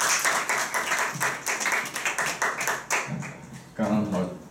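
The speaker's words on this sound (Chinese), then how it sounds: "让我们掌声欢迎杨杰和杨丽" Audience applause welcoming two guests, Yang Jie and Yang Li, onto a stage: dense, steady clapping with a loud burst near the end, blended with crowd voices.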